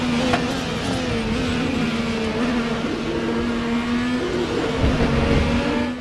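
Race car engine held at full throttle in sixth gear during a qualifying lap at Indianapolis in the RaceRoom racing game, a loud, steady high-pitched drone with a faint rise in pitch, close and continuous with no talk.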